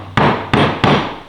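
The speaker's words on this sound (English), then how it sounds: "clean those out with a chisel" A chisel cutting out soft, easily split cedar replacement wood while restoring a magazine rack: three sharp, close strikes spaced about a third of a second apart, each fading quickly.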